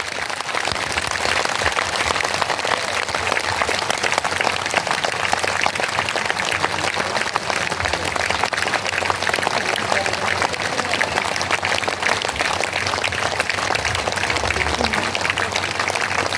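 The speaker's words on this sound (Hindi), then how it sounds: "हम तालियों के द्वारा उनका स्वागत करेंगे, जोरदार तालियों के द्वारा, हाथ ऊपर उठाकर" A crowd at an annual general assembly gives loud, sustained applause to welcome a guest, a dense and steady clapping that fills the whole stretch. A voice may come through faintly underneath.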